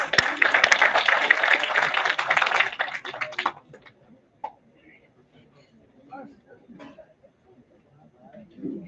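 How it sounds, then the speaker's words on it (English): Audience at a finance conclave applauding, dense clapping for about three seconds that thins out and stops, then a voice speaks over a quiet room. "Let's have a huge round of applause."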